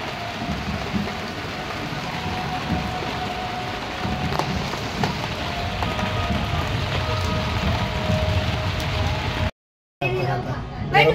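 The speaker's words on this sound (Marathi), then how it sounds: "आणि आता हा पाऊस आलाय." Rain falls steadily during a night in Mumbai with a continuous hiss of drops on surfaces, fairly loud, while people talk underneath, briefly dropping out near the end.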